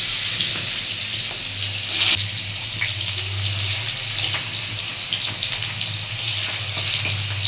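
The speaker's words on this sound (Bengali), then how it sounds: "আলু গাজর একসাথে ভেজে নেব।" Potatoes and carrots frying together in hot oil for a Bengali doi shukto, a steady broadband sizzle with a low hum underneath and a brief louder burst near the middle, no voices.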